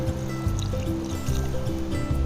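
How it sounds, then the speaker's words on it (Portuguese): Water is poured into a pot of stewing meat, giving a trickling, gurgling liquid sound with low bubbling pulses, fairly close and steady for a couple of seconds. "Nesta fase vamos acrescentar então a água."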